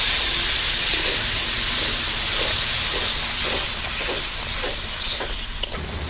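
Milk is poured into spice masala frying in oil with coriander powder, raising a loud, steady sizzling hiss that fills the whole stretch with faint crackles.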